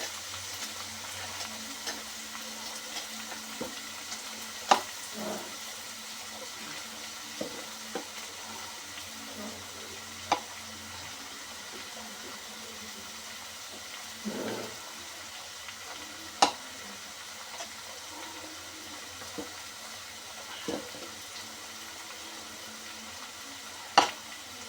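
Curry stirred in a pot over steady sizzling heat, a soft continuous fry with scattered sharp clicks of a spoon against the pot, recorded close with no talk.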